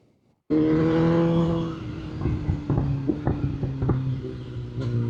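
A BMW M1000R Competition motorcycle with upgraded front suspension rides a bumpy road. A loud, steady engine drone kicks in abruptly and holds close, with scattered thumps and knocks from the rough surface.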